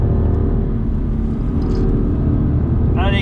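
A BMW M2 CS on light throttle around the Circuit Paul Ricard at Le Castellet during a track day gives a loud, steady, close engine drone with a constant rumble, and a brief rising whine comes in at the very end.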